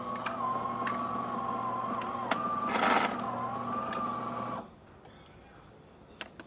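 A serviced DeLonghi Magnifica XS espresso machine pulling a shot after a full tune-up gives a steady pump hum with a brief louder surge in the middle, then cuts off, leaving quiet room noise and faint clicks.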